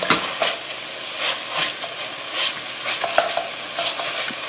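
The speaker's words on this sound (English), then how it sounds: "I got a pound of chorizo sausage here. We're going to start out with that. Cook it down." A pound of chorizo sausage sizzles and fries in a pan, with a continuous hiss broken by repeated scraping stirs of a utensil, close up and with no voices.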